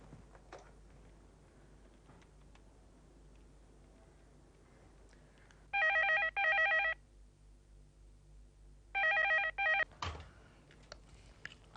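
A telephone rings in two bursts of electronic trills separated by a pause, over quiet room tone.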